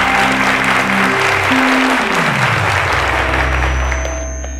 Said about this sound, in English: Ladies and gentlemen, a round of applause to Chizzy Terry.